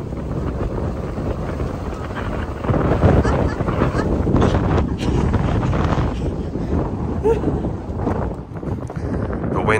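Strong wind buffets a microphone outdoors on the National Mall near the Lincoln Memorial and Washington Monument, a loud, continuous roaring rumble that swells and eases, with a person talking under it.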